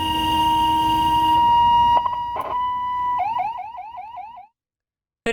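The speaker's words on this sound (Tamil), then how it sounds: "வனத்துறையினர் சைரன் ஒலி எழுப்பியபடி காட்டு யானையை அடர்ந்த வனப்பகுதிக்கு விரட்டினர்" A loud electronic siren, sounded by forest officials to drive a wild elephant into dense forest, cycles through steady tones, then a rapid rising warble, before cutting off abruptly into silence with a brief burst at the end.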